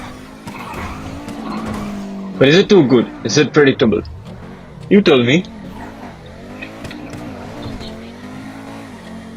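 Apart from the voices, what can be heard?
$2 million supercar cornering with tire squeal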